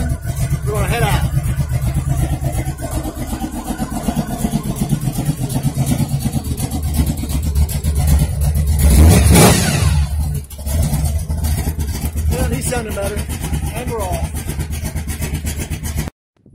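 A large vehicle engine idles steadily through a cool morning warm-up, swells with a brief rev near the middle, then keeps running as it pulls away, with a voice talking over the engine noise.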